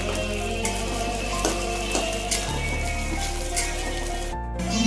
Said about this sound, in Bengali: এদিকে তেল গরম হয়ে গেছে আমাদের, আর পেঁয়াজটা ছেড়ে দেবো, ভালো করে ব্রাউন করে ভেজে নেব।